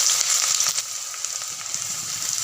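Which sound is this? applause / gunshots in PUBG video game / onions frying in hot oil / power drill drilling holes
onions frying in hot oil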